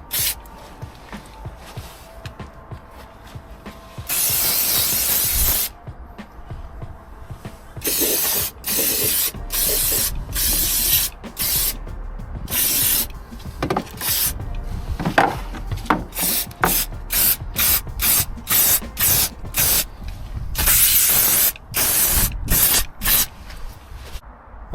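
Bilt Hamber Dynax rust-proofing wax sprayed from an aerosol under a Ford Transit van, heard as a long hiss followed by many short, sharp spray bursts in an uneven rhythm, close and loud.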